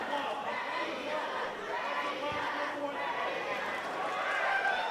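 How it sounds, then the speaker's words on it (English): Wrestling crowd at an intergender indie show making a steady, dense roar of voices that rises into loose chanting, continuous throughout and fairly loud. "crowd's chanting, crack his nuts"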